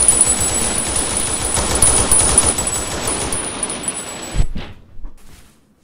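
Rapid machine gun fire in a Starship Troopers film battle, a dense continuous burst of loud automatic shots that cuts off abruptly near the end, followed by a few scattered fading reports.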